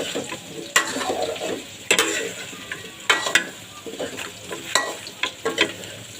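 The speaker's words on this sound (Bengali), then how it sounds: "মশলাগুলো সব একে একে দিয়ে দেব।" Spices sizzle and fry in a hot pan while a utensil stirs and scrapes, with repeated clanks and bursts of crackle over a steady frying hiss, up close.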